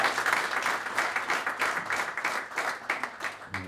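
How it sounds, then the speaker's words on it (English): Applause for young future leaders at a Fresno gathering, a full room of hands clapping in an even, rapid patter that swells and dips slightly, fairly close and clear. "round of applause to you guys"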